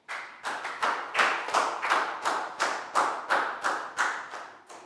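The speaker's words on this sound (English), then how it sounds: "Big round of applause for Net, please, guys." Rhythmic group clapping in a classroom, the class applauding a student together in about a dozen steady, loud, unison claps that fill the stretch without talk.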